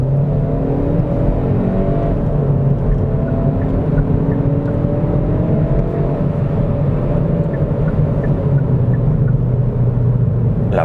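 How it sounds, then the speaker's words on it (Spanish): Hyundai i30 Fastback in Sport mode accelerating uphill onto a motorway, heard from inside the cabin as a constant, loud engine drone with rising tone and road rumble, no voices. "Lo vamos a poner en modo Sport para que veáis un poquito la aceleración a entrada en autovía autopista"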